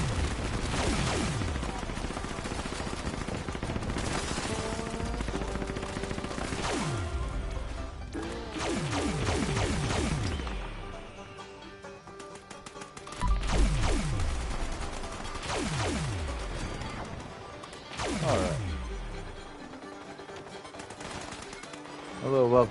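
Gunfire and combat effects in the Fallout 76 online game, with repeated shots and bursts spread across the clip under game ambience, each followed by a decaying tail, some hits louder than others.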